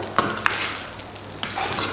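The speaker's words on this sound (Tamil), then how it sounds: "நல்லா சாட்டே பண்ணிக்கணும், கிண்டிக்கணும்" Cooked rice for coconut rice is stirred and sautéed in a pan. A low, soft sizzle runs beneath two or three sharp spatula scrapes against the pan.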